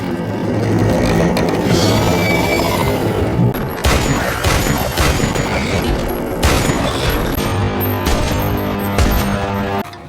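Movie gunfire as characters shoot at creatures climbing a ravine wall: loud, rapid bursts of shots and booms in several clusters over about ten seconds, with scraping and rumbling between volleys.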